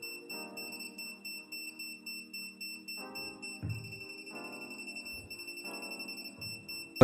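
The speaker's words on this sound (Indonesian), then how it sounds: "suara beep lebih cepat ini adalah pasah" A non-contact voltage tester beeps repeatedly at the slots of a wall power outlet, faster over the live wire and slower over neutral, with bursts of rapid, steady electronic tones in clear runs and short pauses between them, close and fairly loud with no talking.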